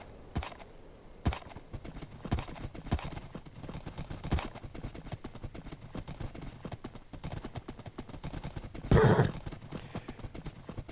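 A horse's hooves clip-clop steadily in the video game Seven, with a quick burst of louder sound near the end, fairly quiet and with little talk.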